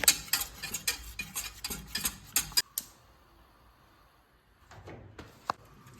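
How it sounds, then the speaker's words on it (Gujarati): A spoon stirs a mixture with turmeric and salt in a pot, giving a run of quick close clinks and scrapes against the metal, then a pause and a few scattered taps. "પછી આપણે હલાવવાનું આવી રીતે"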